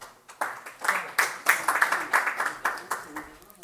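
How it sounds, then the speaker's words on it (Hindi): Audience applause at a kavi sammelan, a Hindi-Urdu poetry gathering, with a fairly small crowd clapping in quick irregular bursts that swell and fade, moderately quiet and heard from a little distance. "तालियां।"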